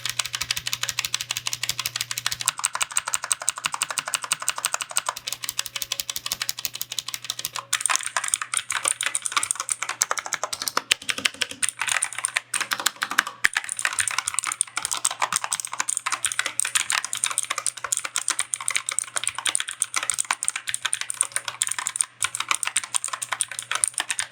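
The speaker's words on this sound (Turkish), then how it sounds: "Gelin dilerseniz klavyenin sesine bakalım." Continuous fast typing on a budget mechanical keyboard with Blue switches, crisp sharp clacks in a steady stream, close and loud with no talking.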